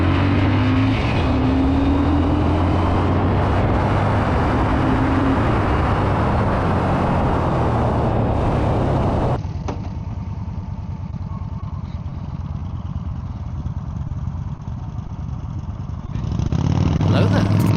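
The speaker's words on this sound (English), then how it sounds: "then I'll come flying up on it, and you can really see how this bike has so much power" A Yamaha V-Star motorcycle accelerates hard, its engine loud and close with a steady roar for about nine seconds, then suddenly muffled and distant before swelling back up near the end.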